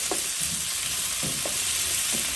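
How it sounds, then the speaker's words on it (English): Vegetables sauteing in a wok on the stove, a continuous close sizzle with occasional soft scrapes and stirring knocks, no voices. "So now I'm just gonna put my stove on medium and I'm just gonna saute these."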